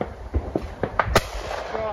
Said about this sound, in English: the second clay is launched after hearing the shot fired at the first clay